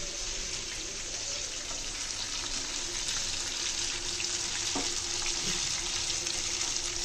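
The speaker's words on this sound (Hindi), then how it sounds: "शैलो फ्राई की।" Barramundi fish shallow fries in a pan, a quiet steady sizzle and crackle with a few faint clinks of utensils, continuous and fairly close.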